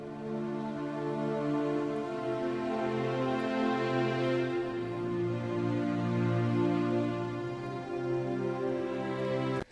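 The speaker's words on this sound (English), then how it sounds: "just basically block chords with Synphobia strings" Block chords on a Project Sam Symphobia sampled string library sustain softly, with smooth, slow chord changes and layered, even tones at a quiet, continuous level.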